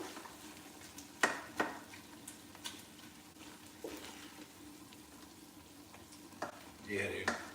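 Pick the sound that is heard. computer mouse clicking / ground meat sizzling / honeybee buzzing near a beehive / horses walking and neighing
ground meat sizzling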